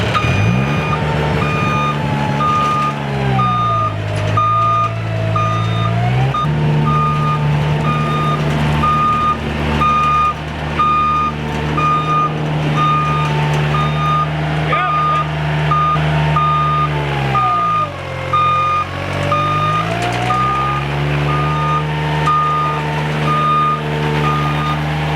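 Steady, loud reversing alarm beeping in a regular rhythm from a skid loader on soft gravel, over a continuous engine drone whose pitch dips and rises twice as the machine works.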